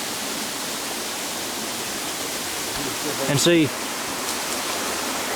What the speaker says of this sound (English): That's a daggone rushing creek.